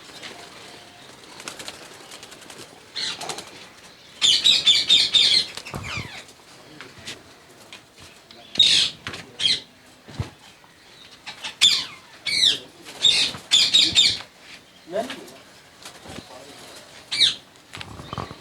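Ringneck parrots kept as breeding pairs in cages give out bursts of sharp, loud squawks and calls, some fluttering of wings among them, set against low room noise.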